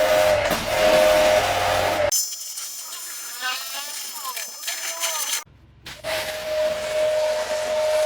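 A Hajime HJ 1100iR-L1 high pressure jet cleaner sprays against a motorbike fender with a steady, loud hissing blast. The jet cuts in and out briefly, and a person talks before and after the spray.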